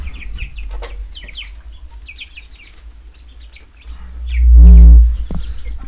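Young chicks gathered around a food and water container, many high, quick peeping calls and clucks overlapping near by, with a deep low rumble swelling up briefly toward the end.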